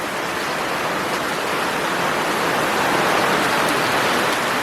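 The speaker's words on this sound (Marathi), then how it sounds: "अवकाळी पाऊस मंडळी अवकाळी पाऊस" Heavy unseasonal rain falling in Konkan makes a continuous broad roar of drops and runoff, constant in level and close by, with no talk.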